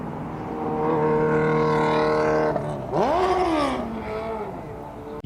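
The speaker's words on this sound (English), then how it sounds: "He's probably downshifting." A vehicle engine drones steadily at a sustained pitch, drops abruptly, then climbs again with a rising whine as it downshifts, heard from some distance.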